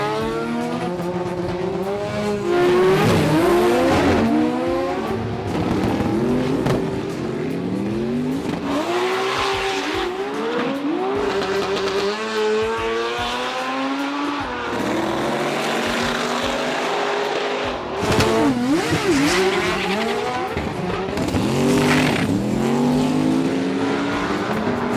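Race cars roar down the strip at the Sydney Jamboree drag racing event, loud, continuous engine wails rising and falling through gear changes, with repeated high-revving passes over about 25 seconds and no voices.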